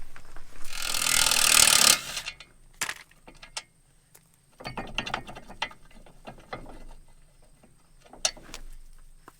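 A bolt being worked loose from a hay mower knife, with a burst of ratcheting wrench clicks up close, then scattered metallic rattles, scrapes and taps as parts are handled, loud and alone.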